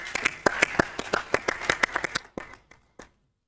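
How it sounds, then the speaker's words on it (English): A small conference audience claps for an engineer, with sharp, distinct hand claps in a quick irregular rhythm that thin out to a few scattered claps before stopping. "So may I request another huge round of applause for this very dedicated engineer."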